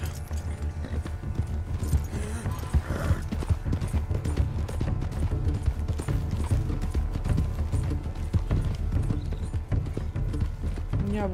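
Steady rhythmic clip-clop of horse hooves in Red Dead Redemption 2 continues throughout, mixed with game sounds and a busy background.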